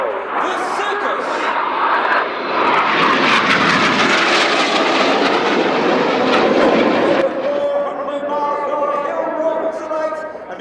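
Red Arrows jets of the RAF flying the Circus display manoeuvre at the RIAT 2025 airshow: a loud, continuous jet roar that swells through the middle, then eases into a thinner fading whine.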